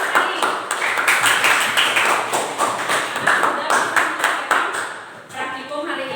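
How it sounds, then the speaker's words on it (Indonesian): A classroom of students claps their hands together during a school lesson on pressure in solids. Rapid, uneven bursts of clapping carry on steadily for several seconds and are fairly loud, while speech runs faintly underneath. "tepuk tangan untuk kita semua karena kalian sudah bisa"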